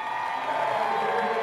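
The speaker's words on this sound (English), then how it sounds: "when Terry finally throws the first pitch, the crowd erupts in applause" A crowd at a Cincinnati Reds baseball game cheers and applauds as a stroke survivor throws the first pitch, a steady distant roar of clapping and voices.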